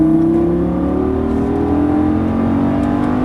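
A Lamborghini Gallardo LP550-2 accelerates hard out of a corner on track, its engine note climbing steadily in a loud, close, continuous rev.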